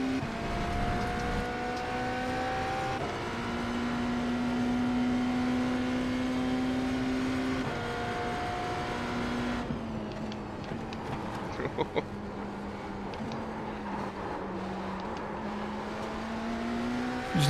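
A race car engine in the iRacing sim drones and climbs through revs, shifting up and down through the gears over a steady hum, while a coach talks the driver through the corner.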